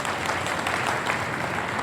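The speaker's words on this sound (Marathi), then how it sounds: "टाळ्या वाजवा एकदा." Sustained applause from a crowd at a protest march rally, loud, dense and even from start to finish.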